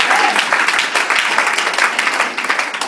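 A church congregation applauds to praise the Lord during a deliverance service, loud dense clapping sustained evenly from start to finish, with voices faintly mixed in.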